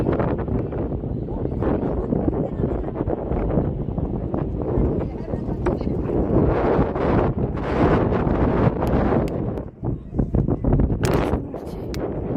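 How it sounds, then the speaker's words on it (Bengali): Sea breeze at Bakkhali beach on a drizzly day roars steadily across the microphone as loud, continuous buffeting wind, with faint voices underneath. "এত সুন্দর হাওয়া লাগছে"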